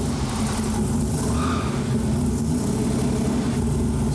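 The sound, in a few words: Ford Falcon car engine started, low throaty idle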